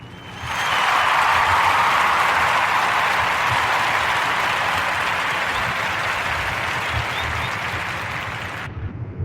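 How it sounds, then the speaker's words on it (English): A warm round of applause swells up quickly and holds as a steady, even wash of many hands clapping at moderate level for several seconds, then cuts off abruptly. "Give a warm Narrative Podcast round of applause for Mr. T."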